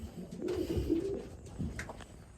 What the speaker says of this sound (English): Come on, Unbreakable and unnamed bird